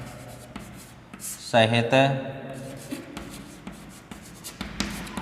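Marker or chalk strokes on a board come in short scratchy bursts, close by and soft, while someone talks over them in Hindi during a lesson.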